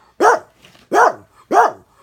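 Three loud, close barks from a dog in a crate during training, evenly spaced about two-thirds of a second apart with quiet gaps between, no voices.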